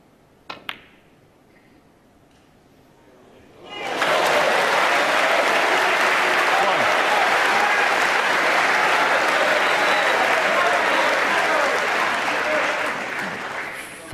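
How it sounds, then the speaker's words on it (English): Snooker crowd at the Masters bursts into loud, sustained applause after a long pot, starting abruptly after a quiet lull and a couple of sharp clicks, then holding steady for about ten seconds. "Fabulous round of applause for a terrific long pot there."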